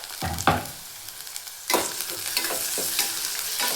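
Chopped tomatoes are mixed and fried in a pan, with a spatula scraping and knocking in a few irregular strokes over a constant sizzle, close and clear with no voices.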